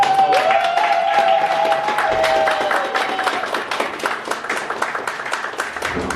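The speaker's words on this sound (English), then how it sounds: "Give our students a round of applause." An audience applauds students at a scholarship award ceremony, steady clapping from a crowd that carries across the whole stretch while a voice briefly lingers at the start.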